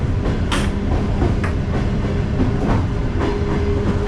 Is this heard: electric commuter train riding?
yes